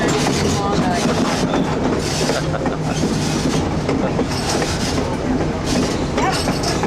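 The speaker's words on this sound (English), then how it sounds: "when the train completely stops" Train rolling on rails after crossing from Alaska into Canada near the Klondike, a loud continuous rumble with rattling wheel clatter close by, and voices faint in the background.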